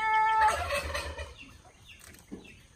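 Turkeys gobbling near a rabbit colony, a loud close burst of rattling gobbles followed by softer scattered bird calls, with no talking.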